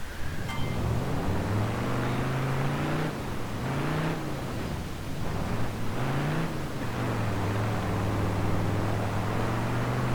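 A V8 police car engine in the BeamNG.drive video game drones loudly with a low, humming tone that rises and falls through several revs and gear changes, close and continuous with no talk.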